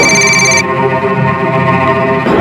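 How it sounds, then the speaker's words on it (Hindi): A loud electronic phone ringtone plays a bright tonal pattern, breaks off briefly, then starts ringing again. "तभी पाक्या का फोन आया साहब मुझे।"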